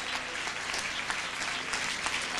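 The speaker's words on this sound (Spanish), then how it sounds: "Un aplauso para ella." Steady applause from a large concert audience, a continuous, even wash of many hands clapping together without pause and with no talk over it.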